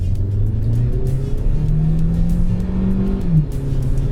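A Kia Seltos X-Line SUV in sport mode accelerating hard at full throttle, its engine note rising steadily with held gears and a quick shift near the end, loud and close without talk.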